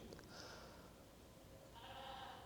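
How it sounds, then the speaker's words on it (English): Sheep bleat faintly from outside an old Saxon church, a couple of drawn-out calls heard through the cold interior against a steady low background hum. "You can hear the sheep outside."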